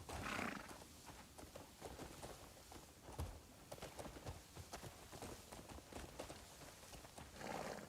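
Horse hooves clopping at a walk in the video game Crimson Desert, a steady close rhythm of hoofbeats with occasional snorts and whinnies over a soft ambient game background.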